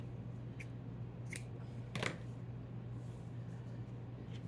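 Scissors cutting elastic cord for a glam-charm hair tie bracelet, a few short quiet snips spaced apart, the sharpest near the middle, over a low steady hum.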